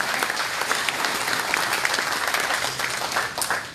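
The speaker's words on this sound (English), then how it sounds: "That deserves a round of applause." Steady applause from the audience at a political action committee meeting, a dense, even patter of many hands clapping for several seconds with no clear talking over it.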